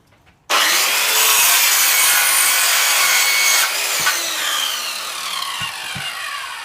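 An Evolution Fury 3 circular saw cutting through wood: the blade bites in abruptly and sustains a loud, bright, continuous cutting whine, which eases slightly partway through and ends with scattered small clicks and knocks.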